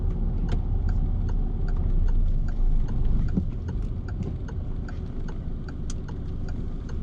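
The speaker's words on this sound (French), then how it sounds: "Clignotant." Steady, rapid clicking of a car turn signal, ticking evenly over the low hum of an engine, close and clear with no talking.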